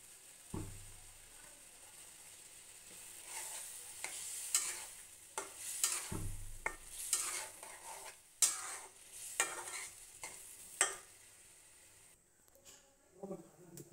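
Chopped potatoes and tomato go into a bubbling curry, followed by repeated stirring scrapes and clacks of a utensil against the pot over a soft sizzle, with low background voices at times.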